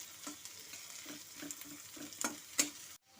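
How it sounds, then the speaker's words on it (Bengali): Chopped onions fry in mustard oil in a kadai, giving a soft continuous sizzle broken by a spatula stirring and scraping in light rhythmic strokes, ending in sudden silence. "আমি কড়াইতে তেল বসিয়ে দিয়েছি, সরষের তেলে এটা করতে হবে। প্রথমে আমি পেঁয়াজ কুচিগুলো দিয়ে দিচ্ছি।"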